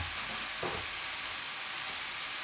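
Boiling water splashed into a pan of stir-fried broccoli and baby cabbage with egg white, giving a steady loud sizzle with a brief burst of bubbling as it hits, no talk.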